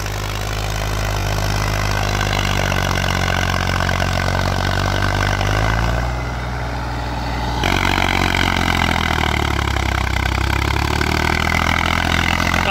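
A 1991 Massey Ferguson 35 tractor pulling a cultivator, its diesel engine running loud and steady throughout, with a brief dip in level midway before the same heavy chugging returns.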